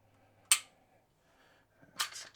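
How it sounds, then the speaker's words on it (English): The trigger of a Beretta APX A1 Tactical pistol is pulled against a trigger-pull gauge. One sharp, crisp click sounds, then a quieter second click follows in near silence. "So we're looking at about a 6 3/4 pound trigger pull here."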